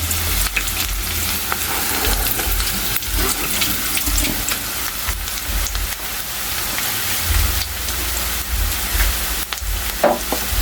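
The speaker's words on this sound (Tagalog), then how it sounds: "at ilagay na natin kay yung bawang" Garlic goes into a hot pan for lechon paksiw and fries with a loud, dense, continuous hiss and sputter, broken by occasional stirring knocks, with no voices.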